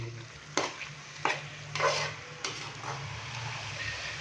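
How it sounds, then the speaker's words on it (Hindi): Beef sizzles in a pan for achar gosht while a spoon stirs it, with four or five distinct scraping strokes over a steady frying hiss, close and fairly loud. "अभी हम इसको हल्का सा फ्राई करेंगे 1 से 2 मिनट के लिए"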